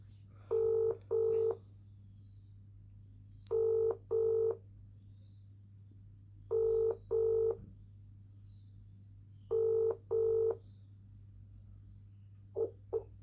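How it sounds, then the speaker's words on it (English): A mobile phone's ringback tone repeats in paired bursts at steady intervals, clear and electronic over a low constant hum, with a short final blip. "it's ringing though"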